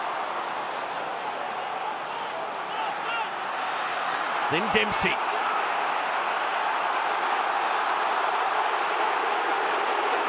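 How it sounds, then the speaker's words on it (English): Sustained roar of the rugby crowd at Murrayfield during South Africa vs Scotland, a broad steady swell that builds slightly, with a commentator speaking over it and a brief sharp knock midway. "The roar of the crowd at Murrayfield in behind their men"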